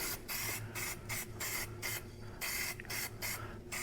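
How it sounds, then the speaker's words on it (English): Rust-Oleum spray paint hisses from an aerosol can in a run of short, even bursts with brief pauses, close and steady, used to recoat a rusty Caterpillar 236 skid steer. "So I'm just taking this spray can here. I got this little Rust-Oleum handle."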